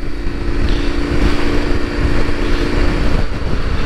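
A KTM 1290 motorcycle with nearly 7,000 km, its engine droning steadily under load while riding in a high gear, with a constant hum and wind buffeting close to the microphone.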